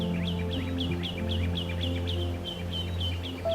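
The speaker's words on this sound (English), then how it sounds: "I hear the birds chirping." Small birds chirp repeatedly in quick, regular bursts over a steady low hum, moderately close and clear.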